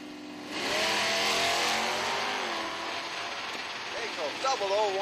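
Drag racing cars at an IHRA drag strip start line, a loud engine roar rising and falling with revving whines toward the end, heard at a moderate distance.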